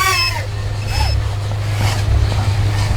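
A KingKong Fly Egg 130 FPV racing drone pushes forward at full pitch, its motors whining and shifting in pitch over a heavy, rumbling wind roar outdoors.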